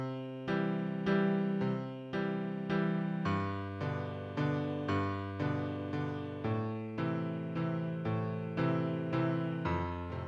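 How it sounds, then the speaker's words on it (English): Piano chords played with a left-hand waltz pattern, a steady three-beat lilt of low bass notes followed by lighter chord strikes, moderately quiet and close, with no voices. "but I chose a waltz pattern, it would sound like this."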